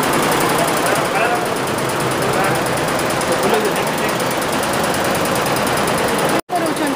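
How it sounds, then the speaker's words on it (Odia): Machine embroidery running on sarees at a saree workshop in Surat, a loud steady dense mechanical clatter throughout with a brief dropout near the end, voices faintly under the noise. "ଯେଉଁ କାମ ମେସିନ୍ ଏମ୍ବ୍ରଏଡରୀ କାମ ହେଉଛି ପୁରା ଶାଢ଼ୀରେ ଏମ୍ବ୍ରଏଡରୀ କାମ ହେଉଛି"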